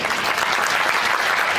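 A crowd at a public address applauds in a dense, continuous burst of clapping, loud and steady throughout.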